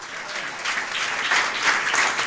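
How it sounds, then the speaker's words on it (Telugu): A church congregation claps together in praise of Jesus, a steady, full round of applause that swells slightly toward the end, with no talking over it. "clap for Jesus"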